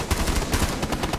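Rapid automatic gunfire in the video game Rainbow Six Siege, a short, tight burst of close shots, alone with no voices.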